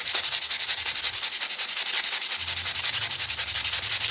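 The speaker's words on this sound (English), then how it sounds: "you can smooth that out very easily with a little bit of sandpaper" Sandpaper smoothing the grooves of an Emerson knife scale, heard as steady, rhythmic back-and-forth rasping strokes, close and fairly loud, with no voices.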